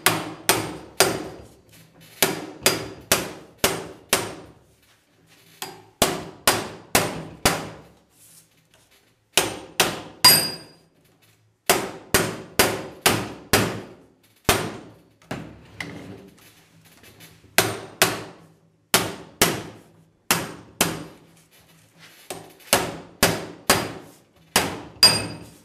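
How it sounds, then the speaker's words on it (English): Repeated hammer blows from a slapper on the door skin of a 1934 Hupmobile 417W, struck in quick bursts of sharp metallic hits with brief pauses between runs, close and loud, no talking. "So now let's try with the slapper."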